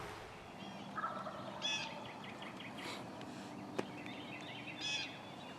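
A wild turkey gobbler gobbling outdoors during a hunt, several short rattling gobbles spaced a second or two apart at moderate distance, fairly faint against a quiet background.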